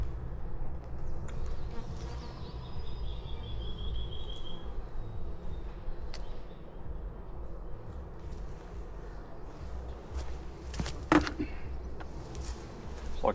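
Honeybees hum steadily during a hive inspection as frames are handled, a dense continuous drone close by with a few sharp knocks and clicks of equipment near the end.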